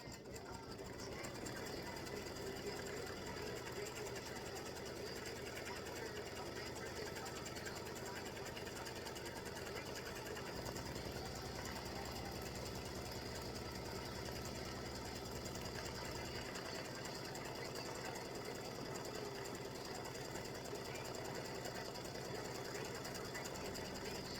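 An embroidery sewing machine tacks down Peltex stiffener for a baseball tic-tac-toe game set, running as a faint continuous mechanical hum for the whole stretch, its tone shifting slightly partway through.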